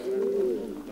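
A racing pigeon gives a single short, low coo at close range, a held tonal note that fades within a second.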